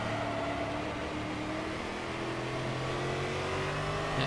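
A stock race car in the Automobilista racing game drones steadily under load out of a corner, a continuous, buzzing mid-pitched engine tone with slight pitch shifts, loud and unbroken.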